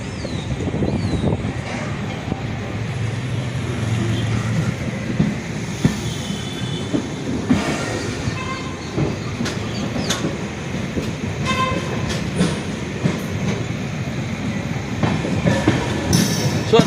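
An Amrit Bharat Express train rumbles steadily as it rolls into a platform on the Chennai Egmore to Tiruchirappalli route, wheels clattering and occasionally squealing, loud and close for the whole stretch.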